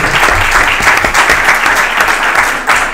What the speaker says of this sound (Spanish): el aplauso es para vosotros, no para nosotros